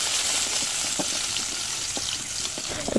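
Chopped garlic fries in a little oil in a wok over a clay stove in a village kitchen, a steady close sizzle broken by faint clinks and stirring taps.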